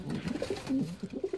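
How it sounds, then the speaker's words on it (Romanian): Ornamental pigeons kept at a house coo softly in a short, close run of low, burbling calls with no voices over them. "eu țin porumbei de frumusețe"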